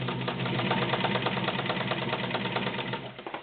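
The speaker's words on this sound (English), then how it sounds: "we'll sew with this one. Start on a straight stitch." A freshly serviced Kenmore Model 1247 sewing machine runs a straight stitch, a close, steady whirring with a quick rhythmic needle tick, smooth and even throughout.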